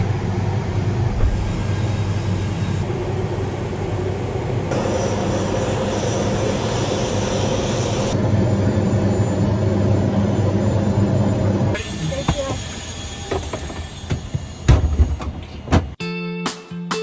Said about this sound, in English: as we take off from here at Telluride